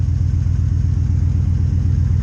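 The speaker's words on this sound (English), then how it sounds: "I haven't fired this truck up in about a year." An old truck engine runs steadily after being started for the first time in about a year, a loud, even low rumble with a regular clattering pulse throughout and no talk.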